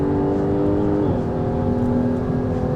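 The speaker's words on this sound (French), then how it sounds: "Raph, si t'entends un petit peu le compresseur siffler là" A Jaguar F-Type's supercharger whistles as a steady high tone over the engine's drone while the car accelerates, the pitch dipping briefly partway through.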